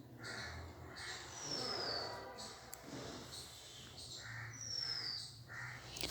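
Crows and other birds calling from trees outdoors, several harsh caws and sharp chirps repeating in the background at moderate distance, with no talk over them.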